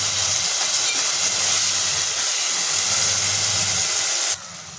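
Tomatoes sautéing with garlic, chili and coriander paste produce a loud, continuous sizzling hiss that holds steady for several seconds, then drops off sharply near the end.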